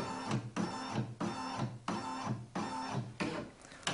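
Brother embroidery machine motor driving its hoop frame around to scan fabric, a loud mechanical whirring in repeated bursts about every 0.6 seconds with brief pauses between, close and alone.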